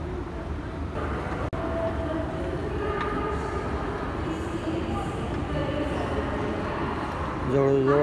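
A Pune metro train running, with a steady broad rumble and rolling hum throughout, one sharp click, and faint squeals near the end as it moves along.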